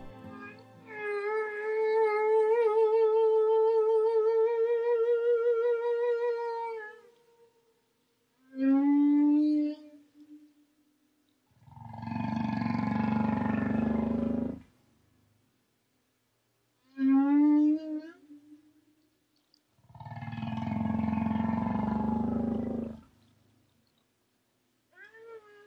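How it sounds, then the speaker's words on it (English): A humpback whale sings alone: long moaning and wavering calls alternate with shorter rising whoops and low, rough groans, in separate phrases with quiet gaps between them. "Here's an example of what one of those songs sounds like."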